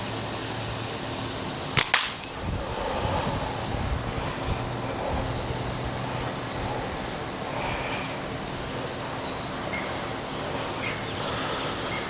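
A single sharp snap of a Simpleshot slingshot fired with a premium latex band cracks out once, then gives way to steady outdoor wind and background noise.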